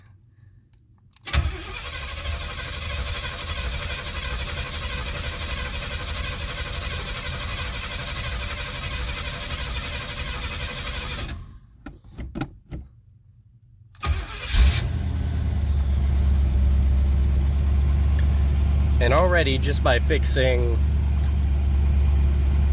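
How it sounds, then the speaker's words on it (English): A 1977 Pontiac Trans Am engine cranks and catches, idles steadily, cuts off, then restarts and settles into a loud, even idle while someone talks over it. "you can hear that the car is idling way better than it was"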